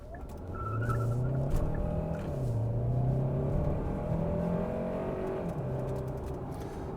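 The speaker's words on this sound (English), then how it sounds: "So what's the acceleration like from the Sorento?" A 2024 Kia Sorento Hybrid SUV engine revs and accelerates hard, rising in pitch as it pulls away, with a steady loud drone and faint road noise throughout.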